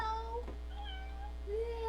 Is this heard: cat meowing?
yes